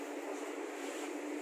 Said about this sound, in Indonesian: ini suasana ekonomi 6 kereta api ekonomi lokal Cepu